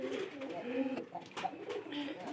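Pigeons coo in a loft holding several breeding pairs, soft low murmuring calls repeating in uneven bursts at moderate distance, with faint background voices.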